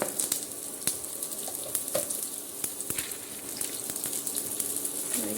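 Cumin and curry leaves sizzle in hot oil in a pan for murmura poha, a close, continuous crackling hiss with scattered sharp pops and spits.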